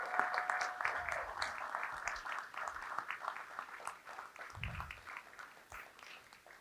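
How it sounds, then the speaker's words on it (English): An audience applauds at a nature center re-opening ceremony in Oakland, with steady sustained clapping and a few cheers heard from close by for several seconds. "please give them, as well as Stephanie, a round of applause."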